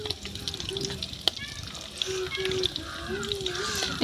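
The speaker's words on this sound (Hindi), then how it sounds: "डालिए मिर्चा भुजाने के लिए, तो भी भुजा रहा है" Chili peppers fry in a pan in a village kitchen, a steady close sizzle with faint crackles, while someone talks over it.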